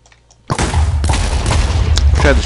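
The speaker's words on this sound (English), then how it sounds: "let's explode us some Blockium" Explosive crossbow ammo in Minecraft goes off in a sudden loud boom after a brief quiet, followed by a rumbling, crackling blast tail and a couple of smaller bursts.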